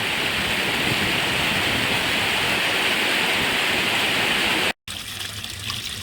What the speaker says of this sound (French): il n'y a pas un gros débit dans ce ruisseau là